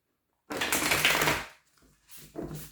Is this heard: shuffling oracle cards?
yes